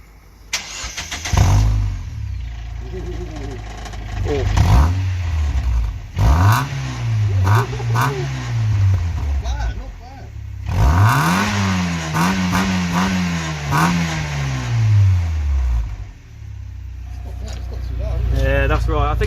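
A Mazda MX5 with a newly fitted exhaust backbox starts and revs repeatedly in close, loud, rising and falling surges, while voices talk over the engine at times.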